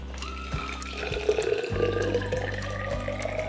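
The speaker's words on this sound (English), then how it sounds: "Now to this you'll add hot water." Hot water pours in a steady stream for a few seconds into a stainless steel insulated tea tumbler holding loose tea, its pitch slowly rising as the vessel fills, close and clear.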